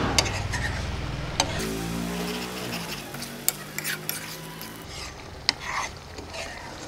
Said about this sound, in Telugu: చూడండి ఈ బటర్ ఈ వామ్త్లో మెల్ట్ అయిపోతుంది.